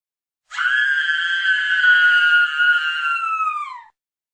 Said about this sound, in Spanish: Ella grita del dolor.